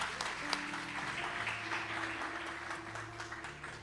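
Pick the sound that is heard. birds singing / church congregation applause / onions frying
church congregation applause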